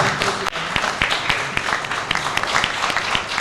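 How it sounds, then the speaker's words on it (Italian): Applause in a council hall in Naples after the election of the first president of the city's Youth Forum, a lively round of close clapping from a modest crowd with distinct individual claps. "Un applauso."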